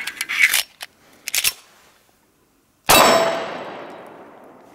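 A Sig Sauer Compact Nickel 1911 is handled during a reload, with a few sharp metallic clicks, then a loud ringing metal clang that rings out slowly, close by.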